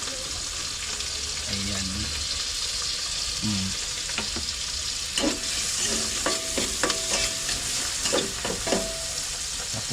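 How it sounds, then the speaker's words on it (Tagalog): Washed meat sautéing in a hot pan, a loud continuous sizzle with a few spatula scrapes and clinks near the end, and a voice speaks briefly. "ilagay natin yung karne, igisa muna natin"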